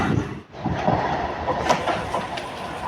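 Passenger train ride toward Majdia, heard from inside the carriage: a loud, steady rumble with faint rhythmic wheel clatter and brief metallic clicks as the wagon rolls on.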